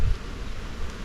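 Honey bees buzzing around hive boxes at an apiary in hot weather, a close, continuous low drone with a few louder thrums as insects pass near.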